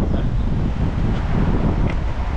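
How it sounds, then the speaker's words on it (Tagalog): Strong wind roars across the microphone in a continuous low rumble, loud and close, buffeting without pause. "Lakas po kasi yung hangin dito."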